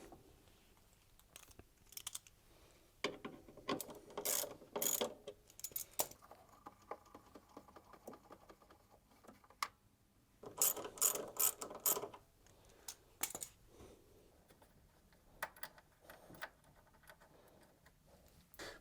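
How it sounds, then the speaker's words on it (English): A 10mm socket on a ratchet undoes the two motor bolts on a Samsung ecobubble washing machine, making quiet, close bursts of clicking ratchet ticks with pauses and handling knocks between them, with no talking. "Then you need to use your 10mm socket to undo these 2 bolts here."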